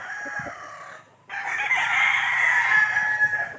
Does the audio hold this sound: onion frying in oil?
no